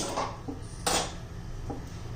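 A metal kadhai (wok) set down on a kitchen stove to heat, giving a couple of short clanks and a sharp knock, close and fairly quiet with no talking.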